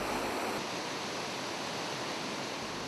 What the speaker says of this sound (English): General Stronghold Waterfall is the most unique one and can be called a splendid symphonic poem of water